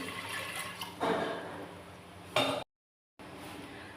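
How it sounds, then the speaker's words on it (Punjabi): Half a litre of water poured into a pressure cooker for a pumpkin and chana dal fry, heard as two short splashing bursts with a steady watery wash between them, close and moderately loud, then a brief gap. "ਤੇ ਕੁੱਕਰ 'ਚ ਆਪਾਂ ਅੱਧਾ ਲੀਟਰ ਪਾਣੀ ਦਾ ਪਾਵਾਂਗੇ"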